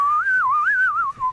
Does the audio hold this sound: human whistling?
yes